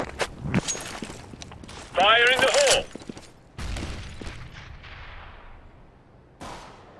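Gunfire and grenade blasts in a Counter-Strike style shooter, sharp bursts and booms scattered across several seconds, with a voice talking in between.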